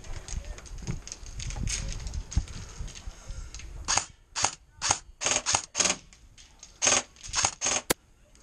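Gunfire in the Modern Warfare video game, starting as a muffled rumble of shooting and then breaking into sharp, evenly spaced single rifle shots with short silences between them.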